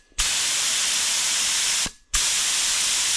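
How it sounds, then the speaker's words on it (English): A paint spray gun at 30 psi, full trigger, hisses in a steady, loud burst while painting a fibreglass bumper, cuts off briefly, then resumes at the same broad hiss. "So we're spraying at 30 psi full trigger now."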